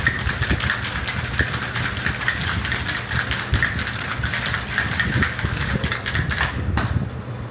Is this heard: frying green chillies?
no